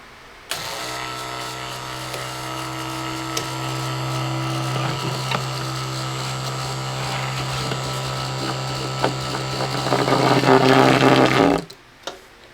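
A small electric oil pump on a pulling tractor, powered by the tractor's battery, whirs steadily with a constant low hum and mechanical rattle, running for about eleven seconds, rising slightly near the end before cutting off.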